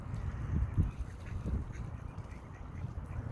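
Mallard ducks quacking close by in Iceland in a few loud bursts, with softer quacks and outdoor background noise in between.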